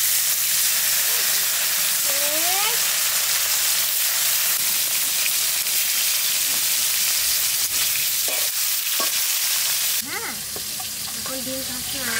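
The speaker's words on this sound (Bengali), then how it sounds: "কড়াই গরম হয়ে গেছে, তেলটা দিয়ে দেবো।" Turmeric hitting hot oil in a heated wok, a loud steady sizzle and frying hiss with some stirring, continuing throughout with faint talk in the background.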